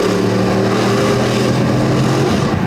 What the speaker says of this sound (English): when he floors the gas pedal. It sounds horrible